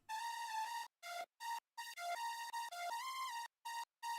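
A buzzy, distorted synth plays a stuttering sequence of sustained notes, with a harsh ringing resonance on top and abrupt gaps between phrases.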